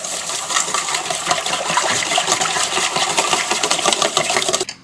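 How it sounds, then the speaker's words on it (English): Dijon mustard salad dressing with honey being whisked in a bowl, giving a continuous loud, close scraping and sloshing rattle at a fast steady rhythm, stopping at the very end. "And now I'm just going to give this to a whisk."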